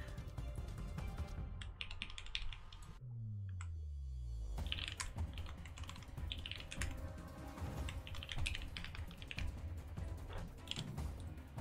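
A computer keyboard is typed on in a steady patter of soft clicks, fairly faint against an ongoing background hum and noise.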